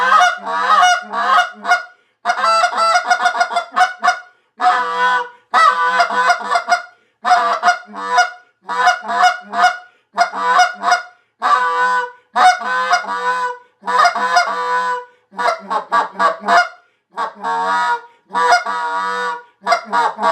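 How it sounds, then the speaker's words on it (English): Full Tilt Fowlers wooden goose call blown in rapid bursts of loud, raspy honks and clucks, close and alone, with short pauses between sequences. "Today I'm going to give you a sound file of one of our wooden goose calls"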